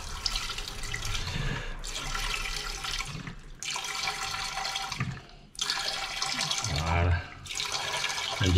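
OKO filter water bottle squeezed in bursts, water gushing out in several strong streams separated by short pauses, close and fairly loud.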